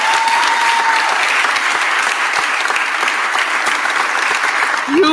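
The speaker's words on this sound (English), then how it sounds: "Give Joe Grace a round of applause" A crowd at a union gathering marking the end of a strike applauds loudly and steadily, thick clapping close at hand with faint voices mixed in.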